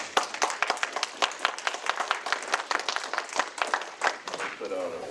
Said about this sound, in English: would like to give a big round of applause to the Thornridge High School marching band